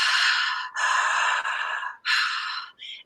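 A voice imitates the slow, deep breathing of sleep, sometimes called ocean breath: several long, airy, hissing breaths up close, the last one short.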